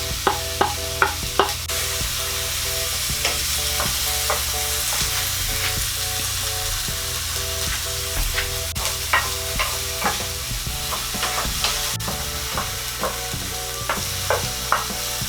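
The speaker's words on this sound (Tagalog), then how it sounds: "pwede ko na pong ilagay itong sibuyas at saka itong ating luya. Pagsasabayin na po natin to." Onion and ginger sautéing in a pan with browned garlic, the base for crab halang-halang: a steady, close sizzle runs under repeated rhythmic spatula clanks against the pan, in bursts throughout, with no talking.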